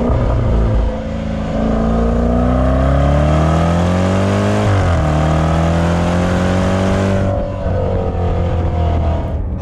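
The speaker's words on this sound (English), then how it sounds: "awesome sound from that exhaust. Downshifting just then, blipping into the throttle as well" A 2020 Range Rover Velar SVAutobiography V8 roars loudly from close by, its exhaust note rising through the gears, then dropping with a downshift and throttle blips before settling into a steady drone.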